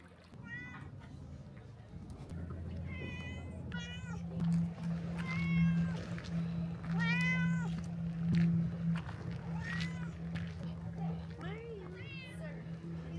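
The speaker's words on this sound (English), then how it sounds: "Also, the cats here are picky." Several cats on Aegina island give repeated meows, some close and some farther off, over a steady low engine-like hum and faint background murmur.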